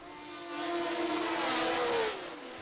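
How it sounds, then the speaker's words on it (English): Racing cars from the 1970 Formula One season at Monaco accelerate away from the start with a loud rising howl that swells and then fades within a few seconds. "As the field of 16 cars howled away from the start and up the hill towards Casino Square, Jackie Stewart was in the lead."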